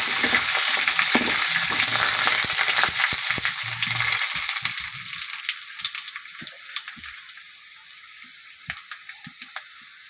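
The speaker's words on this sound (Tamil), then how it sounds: "ஒரு அஞ்சு வரமிளகாய் அதையும் நல்லா வறுத்து எடுத்துக்கோங்க" Dry red chillies fry in hot oil for a tomato-onion kaara chutney, a dense crackling sizzle with spatula knocks that gradually thins into sparse pops and softer hissing.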